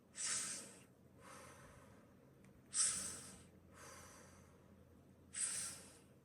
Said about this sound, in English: breathe in through the mouth and out for 6 breaths